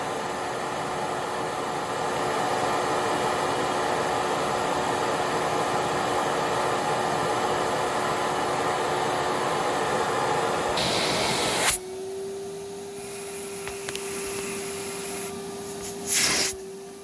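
A Kenmore Whispertone vacuum cleaner runs as a loud, steady roar with a sustained motor whine, then the tone shifts and rises in pitch after a sharp change partway through, with a brief burst of airflow near the end.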